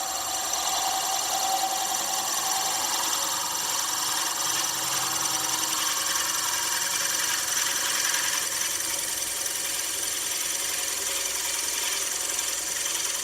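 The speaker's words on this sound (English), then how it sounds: "I'm drilling olive wood here" A steady mechanical whine and hiss of a lathe drilling a pen blank of olive wood, continuous and even throughout with no talking.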